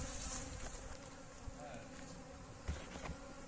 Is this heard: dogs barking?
no